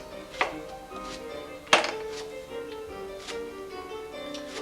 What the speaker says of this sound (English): now we're just chopping the leeks